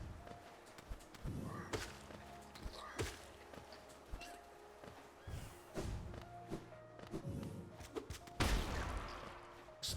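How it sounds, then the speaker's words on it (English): Explosions in Hollow Knight with the Pale Court mod: a series of muffled thuds and bursts recurring irregularly across the scene, with a louder, denser blast near the end. "Explosions."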